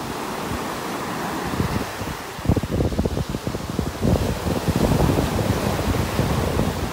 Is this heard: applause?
no